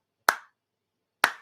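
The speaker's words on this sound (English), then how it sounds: "slow clap" Two slow, sharp hand claps land about a second apart, each crisp and quickly decaying, standing alone in otherwise quiet surroundings.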